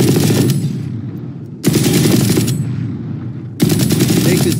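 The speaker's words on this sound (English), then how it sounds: "Try out some different guns on these targets." Rapid automatic gunfire from Valorant weapons hitting practice targets, loud and continuous in three sustained bursts separated by brief pauses, with no talk over it.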